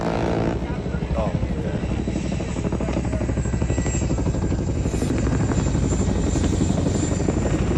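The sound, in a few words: Chinook helicopter flying overhead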